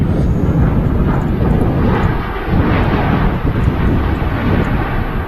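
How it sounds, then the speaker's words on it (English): A Ryanair UK airliner arriving at Manchester Airport from Verona gives a loud, steady, broadband roar with gusty wind buffeting throughout, the engine rumble holding close and continuous. "This Ryanair UK service in from Verona."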